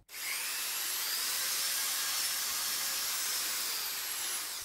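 Electric file (power file sander) with six-speed control running steadily, a continuous high-pitched whirring hiss with no pauses, close and fairly loud.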